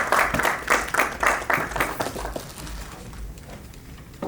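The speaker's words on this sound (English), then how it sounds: "Can I have a round of applause, please?" Audience applause for speakers at a Tech Tuesdays UK space tech panel, a close, dense burst of clapping that fades out over a few seconds.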